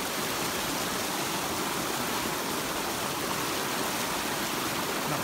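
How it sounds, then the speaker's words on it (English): Storm water overflowing an open roadside ditch rushes down a road in a steady, loud, unbroken roar of running water, like a creek, with no voices. "An open ditch can't handle this water, and it's just running down the road."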